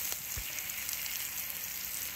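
Slices of red apple fry in butter in a pan, giving a soft, steady sizzle with no speech, fairly quiet and close.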